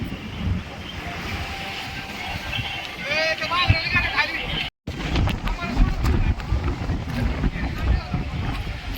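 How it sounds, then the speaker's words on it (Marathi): Strong wind at a waterfall buffeting the microphone with a constant low rumble, while a person talks over it and other voices sound in the background. "वारा किती आहे इथं"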